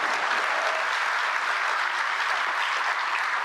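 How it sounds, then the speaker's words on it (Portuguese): Dense, sustained applause from a large audience honouring Brazilian culture minister Margareth Menezes at a government event with President Lula, an even, continuous roar of clapping throughout. "Uma salva de palmas para a nossa ministra Margarete Menezes."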